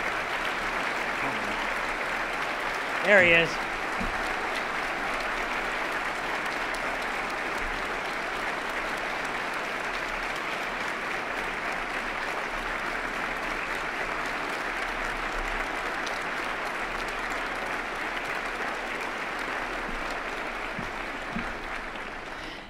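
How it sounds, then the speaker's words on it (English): An audience applauds at a city's State of the City address, honoring guests asked to stand; steady, sustained clapping fills the hall for over twenty seconds, with a brief spoken remark near the start. "let's give them a round of applause."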